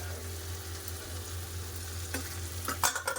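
A ground spice paste with turmeric fries in oil with onion and tomato for a fish curry, giving a soft, even sizzle over a low hum, then a few scraping stirs near the end.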